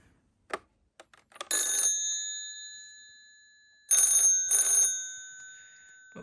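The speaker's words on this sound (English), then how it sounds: "You can probably hear my 706 ringing upstairs." Old 706 telephone bell ringing from upstairs, two ringing bursts followed by a second pair after a pause, preceded by a few faint knocks and clicks, fairly clear with no talking.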